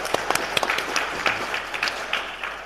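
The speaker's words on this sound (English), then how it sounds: "you can give him a round of applause" An audience at an aviation authority event gives a round of applause for a speaker, a brief, moderately loud burst of scattered clapping in a room.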